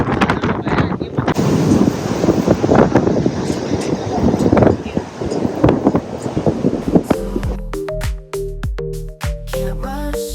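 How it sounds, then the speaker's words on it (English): Strong wind buffets the microphone at a Langkawi beach in a loud, gusty roar with surf rumbling underneath, then gives way to music for the last few seconds. "इतनी हवा चल रही है."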